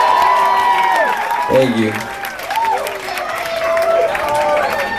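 A rock-club crowd at a 2001 concert at the Horseshoe Tavern claps and cheers at moderate volume, while a voice briefly speaks over the noise.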